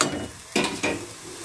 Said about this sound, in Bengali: আমি 1 পিট এটা ভাজা হয়ে গেছে, আমি আর 1 পিট ভেজে নিচ্ছি।